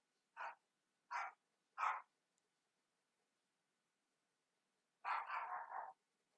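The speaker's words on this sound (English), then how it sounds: "My dog is going crazy." A dog barks three times in quick, evenly spaced single barks, then lets out a longer run of rapid barks after a pause, fairly near and alone with no talk over it.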